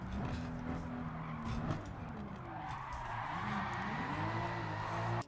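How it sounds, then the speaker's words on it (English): A pink Toyota Supra drifting in Gran Turismo 7, its tires squealing continuously over a wavering engine note for the whole stretch, loud and close. "I can drift this!"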